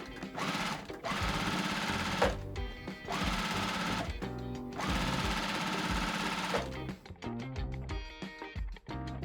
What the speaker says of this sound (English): I'm going to sew the bottom row to the top row to all 4 of them as well.